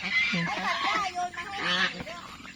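Nasal, honking duck quacks repeat in quick bursts close by, with bits of nearby human voice mixed in.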